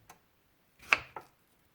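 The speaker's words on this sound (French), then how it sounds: "vous commencerez à découper ici la betterave rouge en cubes plutôt grossiers" A knife chops red beetroot into coarse cubes on a board: a faint tap, then two sharp close cuts about a quarter second apart, in an otherwise quiet room with no voices.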